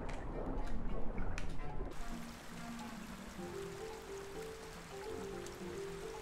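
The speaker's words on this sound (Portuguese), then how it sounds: "Tem uma cachoeira bem aqui na frente" A waterfall rushes in a dinosaur video game, a steady broadband watery roar that continues throughout, with a soft tonal game sound over it and no clear talk.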